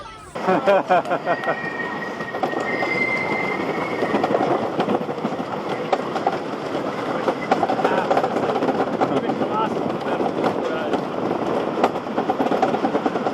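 Grizzly, a wooden roller coaster at Kings Dominion, roars along its track with steady rattling and clattering wheel noise, loud and close throughout, with some shouting or talk from riders mixed in.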